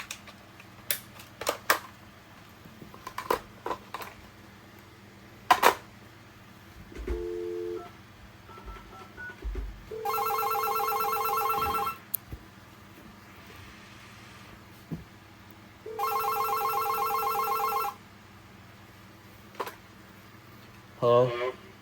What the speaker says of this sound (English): gonna ring up the other phone.